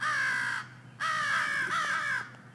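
Agitated crows caw loudly and nearby, two long harsh calls in quick succession, hoarse and sustained, with a steady low background hum.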